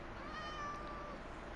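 A cat in Minecraft gives a single drawn-out meow, clear and alone over a low background rumble.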